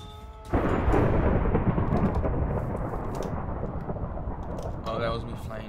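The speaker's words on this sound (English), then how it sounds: "Lightning bolt again." A lightning bolt summoned with a superhero power in a Minecraft superhero mod cracks sharply, then rolls into a loud, sustained thunder rumble that slowly fades, with a brief faint voice near the end.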